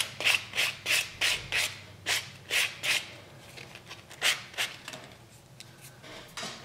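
A nail block rasps across a fingernail in quick, regular back-and-forth strokes, about a dozen close scratchy swipes with short gaps, during a gold glass-effect nail art session; no voices.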